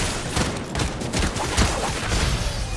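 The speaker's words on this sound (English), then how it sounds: "I sniped her twice." Rapid, overlapping gunfire cracks in a video game firefight, several sharp shots in quick succession over a busy, loud battle din.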